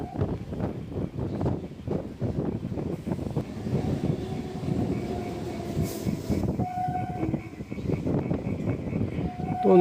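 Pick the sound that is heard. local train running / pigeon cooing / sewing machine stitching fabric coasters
local train running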